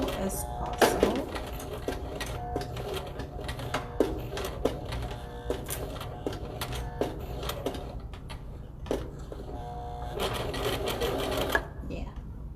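A sewing machine stitches slowly through the thick edge of a homemade lunch bag, giving soft irregular mechanical clicks and whirs up close, with a voice speaking over part of it.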